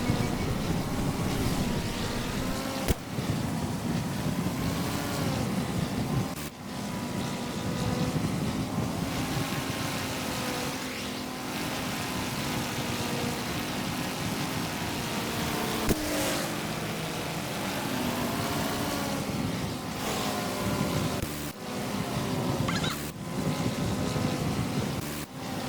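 Propeller engine of a VG33C1 French fighter plane in a combat flight game, droning steadily and loud throughout with a slightly fast pitch and brief dips.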